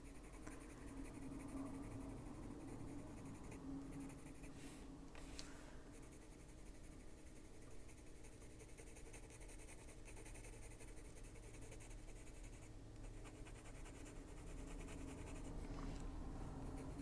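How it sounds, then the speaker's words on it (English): A pencil draws and blends colour on paper, a faint, steady scratchy rubbing that goes on continuously with brief louder strokes. "you can just mess with the pencil and keep working at it, and you'll get the right color blend too."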